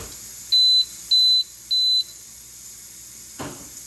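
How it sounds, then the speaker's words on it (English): Three short, clear electronic beeps in an even rhythm from a Nesco electric pressure canner, close by, followed by a soft clunk; otherwise quiet. "then you'll hear the beep, and it will show the 40 here"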